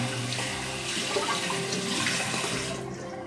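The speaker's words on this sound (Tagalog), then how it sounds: "Papatuluan ko lang ng tubig, sasabunin, at babanlawan." Tap water runs steadily into a kitchen sink as dishes are rinsed, a close, continuous splashing hiss that thins out near the end.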